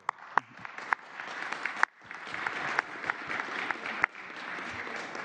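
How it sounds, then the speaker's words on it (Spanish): A small crowd claps at a Mexico City government press conference, with scattered sharp individual claps over a moderate, uneven patter. "Un aplauso."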